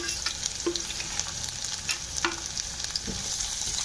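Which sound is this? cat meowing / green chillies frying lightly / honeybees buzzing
green chillies frying lightly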